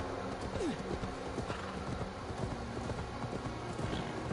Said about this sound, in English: I got a skill point, it's for riding the horse.